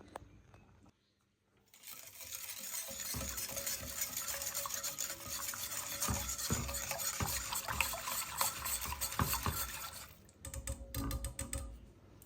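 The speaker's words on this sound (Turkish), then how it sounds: "Çorbam kaynamaya başladı." A pot of flour soup with vermicelli boils on the stove, giving a steady bubbling, crackling hiss that starts after a short pause, holds for several seconds, then briefly cuts out and resumes.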